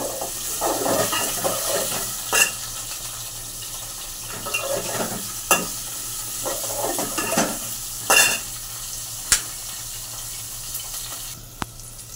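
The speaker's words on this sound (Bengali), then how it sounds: "পেঁপে দিলাম, কুমড়ো দিলাম, গাজর দিলাম, আগে দিয়ে দেবো, একটু ভেজে নেব।" Papaya, pumpkin and carrot fry in a pan with a soft continuous sizzle, broken by stirring scrapes and several sharp clanks of a spatula against the pan, heard up close.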